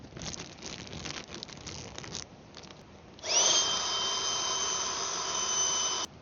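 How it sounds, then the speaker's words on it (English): A small rechargeable electric air pump used at a riverside roof-tent campsite switches on partway through and runs with a steady, loud whine and hum for about three seconds before cutting off, after quieter rustling. "these little rechargeable pumps"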